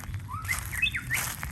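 A white-rumped shama sings a few bright, clear whistled notes with rising and falling slides, close and fairly loud over a soft low background hum.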